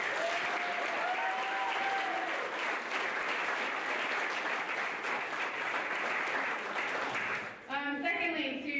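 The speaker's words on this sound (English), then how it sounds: "He deserves a huge round of applause." Loud, sustained applause from a crowd at a high school spring sports banquet, steady clapping filling nearly the whole stretch before tapering off, with brief talking at the end.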